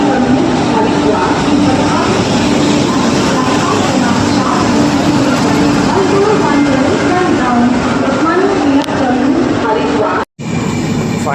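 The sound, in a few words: Haridwar Express train from Kalyan station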